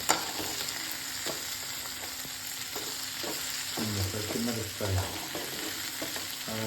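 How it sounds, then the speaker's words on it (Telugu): Chopped onions sizzle steadily in hot oil in a pan for green tomato chutney, with soft stirring scrapes and a few louder spatters near the end, close and without talk. "అలాగే ఉల్లిపాయలు కొట్టుకొని ఇలా పండులో నూనె వేసుకొని"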